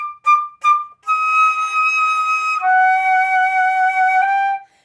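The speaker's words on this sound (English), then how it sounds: "if I play that section now and I do those Ds as staccatos, it would sound like this" A Mozart passage is played solo, with a few short clipped staccato Ds at the start followed by longer sustained melodic notes. The instrument is clear and close, with no talking.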